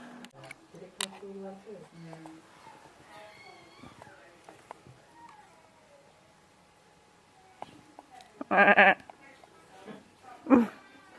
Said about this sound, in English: Let's go back to the sheep.